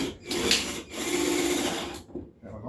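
Wood in an old drawer creaks and cracks under strain, a rough grinding rasp sustained over a couple of seconds, broken by brief pauses and ending in a short, quiet crackle.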